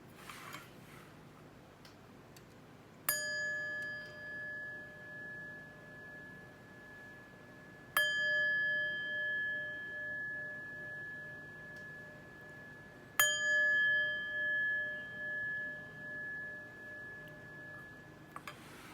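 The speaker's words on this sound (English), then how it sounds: "But first, let's chime." A chime is struck three times at spaced intervals, each strike ringing out clearly with a long, sustained metallic tone that slowly decays in a quiet room.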